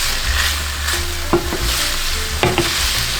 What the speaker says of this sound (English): I'm going to go ahead and add the tofu. And I'll want to let it fry up on all sides